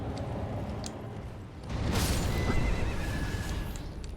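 A horse in the video game Elden Ring lets out a loud, drawn-out whinny over a busy backdrop of game sounds and faint hoof clatter.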